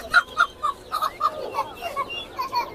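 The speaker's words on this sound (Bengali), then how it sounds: "মোরগ মুরগি দুইটাই একসাথে দেখাই দেখ" A hen and rooster at a poultry market giving a series of about ten sharp, evenly spaced clucks, loud and close with quiet background.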